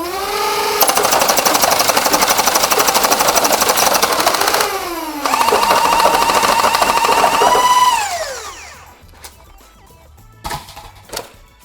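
Out of Darts Herja full-auto Nerf blaster rattling off darts in long rapid bursts, a loud mechanical buzz with motor pitch sliding down between volleys, then a few quieter clicks and handling knocks at the end.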